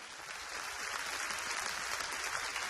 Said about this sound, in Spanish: denle un aplauso de adoración